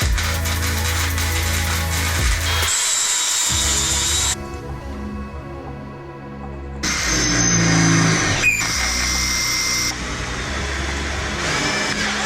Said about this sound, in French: je vais reprendre toutes les soudures, je vais les meuler